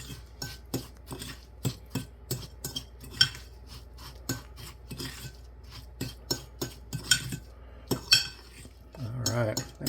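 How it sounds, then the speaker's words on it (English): Repeated utensil scrapes and clinks against a bowl as crust crumbs are mixed with melted butter into a wet-sand texture, close and rhythmic, with a brief rougher rubbing stretch near the end. "we're going to add to that 3 tablespoons of melted butter. And we're going to mix this up like a wet sand."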